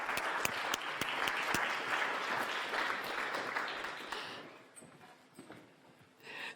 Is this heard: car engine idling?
no